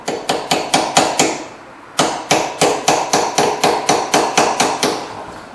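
Hammer blows tap a brake bar back into place on a 2010 Kia Rondo during a front and rear brake and rotor job, sharp metallic strikes in a steady run of about six, a brief pause, then ten more, close and loud.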